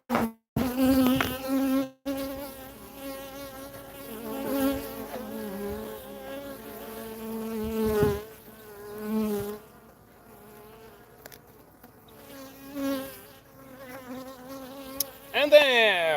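Honeybees buzz steadily around an opened wooden beehive as the boxes are checked, a close, continuous droning hum with several strong swells and dips.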